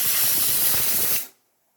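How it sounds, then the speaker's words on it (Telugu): A steel pressure cooker whistle lets off a loud, steady hiss of escaping steam for about a second before cutting off abruptly into silence. "చూసారా, విజిల్ వచ్చినా కానీ"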